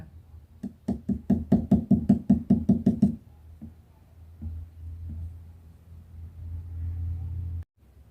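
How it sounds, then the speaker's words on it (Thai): Knuckles rap on a cabinet to scare away mice, a fast run of about a dozen crisp knocks over two seconds, followed by a low, steady rumble that cuts off abruptly. "เราวางแล้วเราก็เคาะนะคะ"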